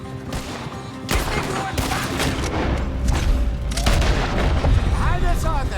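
Heavy gunfire during a shootout in Red Dead Redemption 2, with dense overlapping shots and booms continuing throughout alongside shouting voices.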